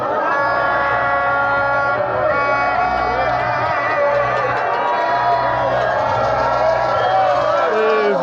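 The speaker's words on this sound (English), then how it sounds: "Very huge crowd here, bubbling with so much energy" A large, energetic crowd cheers and shouts at a political rally entrance in Ibore, Esan Central, a dense continuous roar with whoops and a musical tone running underneath throughout.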